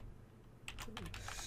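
Quiet computer keyboard typing of VBA code begins after a short pause, a quick cluster of several key clicks at close range.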